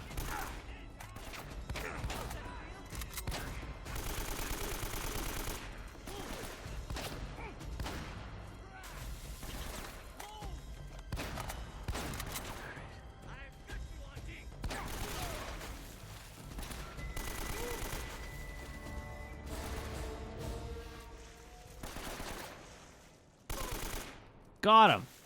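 Sustained gunfire in the Uncharted: Drake's Fortune video game, with many sharp shots and bursts scattered across a long firefight, fairly even in loudness, and a final louder cluster of shots near the end.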